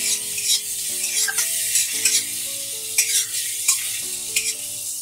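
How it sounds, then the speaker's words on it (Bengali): Potato pieces fry with turmeric and salt in a pan, a bright continuous sizzle broken by regular scraping stirs of a spatula against the metal, close and fairly loud with no talking. "আলুটাকে প্রথমে একটু ভালো করে ভেজে নেব"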